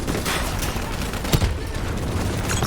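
Explosions and heavy gunfire from a spike charge detonation during Call of Duty: Black Ops III combat, a dense, continuous battle roar with a sharper blast near the middle.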